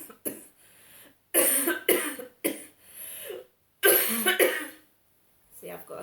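Several harsh coughs in quick bursts, close by, separated by short pauses, with a bit of throat clearing and quiet speech near the end.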